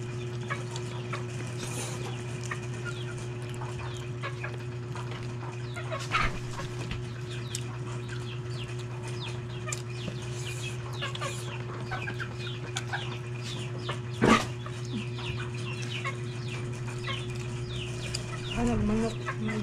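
Chickens cluck sporadically over a steady low hum, with occasional louder bird calls standing out against the background.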